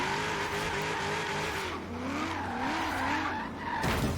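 A Holden Maloo drift car in Forza squeals its tires round corners, a sustained wavering skid whine over a droning engine note that rises and falls as it slides, loud and close with no talk.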